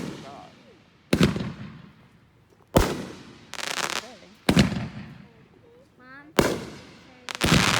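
Fourth of July fireworks in 2020 go off close by as about six sharp, loud blasts at irregular intervals. Each blast is followed by crackling, fizzing tails, and excited voices react between the bursts.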